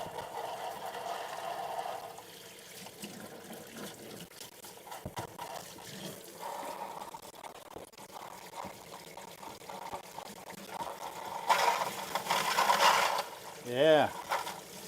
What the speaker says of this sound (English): Rinsing this crap off.